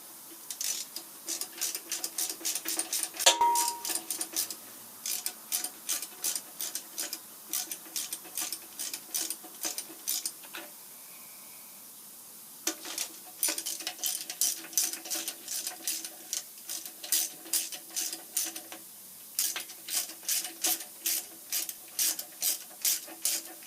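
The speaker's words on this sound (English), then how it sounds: "I've already started pulling bolts out here" Bolts being removed from the end of an electric motor on a rotary phase converter for a Rockford planer, heard as quick ratcheting clicks in repeated bursts with short pauses between, close and fairly quiet.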